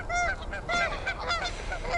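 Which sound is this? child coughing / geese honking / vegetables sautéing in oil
geese honking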